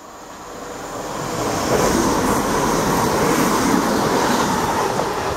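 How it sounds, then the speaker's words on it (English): A fast Class 170 diesel passenger train passes through Kirkcaldy station on its way to Edinburgh Waverley. Its loud, steady roar swells over the first two seconds and then holds as a broad, continuous rumble with faint rail clatter throughout. "Now we have a fast 170 service to Edinburgh Waverley."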